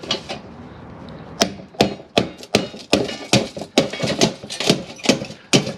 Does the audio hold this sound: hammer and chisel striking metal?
yes